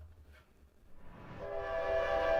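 A train whistle within a played music track, a low rumble building into a sustained, rising horn-like tone that grows louder toward the end, with no talk over it.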